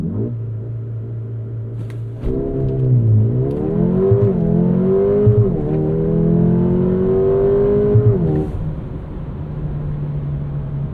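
A 2024 Mercedes GLA 35 AMG idles, then launches under launch control, its engine revving hard through rising, falling and climbing pitch sweeps as it accelerates loudly up through the gears before dropping back to a steady hum.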